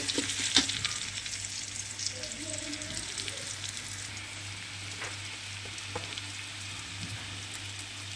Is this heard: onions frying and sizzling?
yes